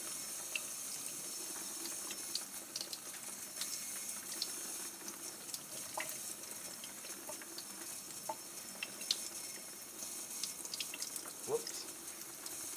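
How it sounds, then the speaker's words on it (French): Water pours steadily to rinse sprouting seeds in a home germination setup, a continuous soft trickling and splashing close by with faint handling noises. "l'eau va tomber dans l'affaire. Ça va juste rincer les graines comme qu'on veut."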